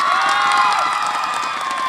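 A crowd cheers and claps loudly, a dense wash of shouts and applause filling the brief moment.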